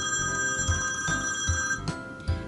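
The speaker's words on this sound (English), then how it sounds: "the phone rings." A telephone bell rings in a family medical practice office, with steady bright tones and a low pulsing rattle repeating roughly twice a second, close and continuous.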